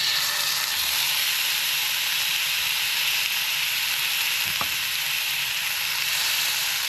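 Steak searing in a hot pan, a loud, steady close sizzle and hiss running throughout, with one brief knock partway through and no talking.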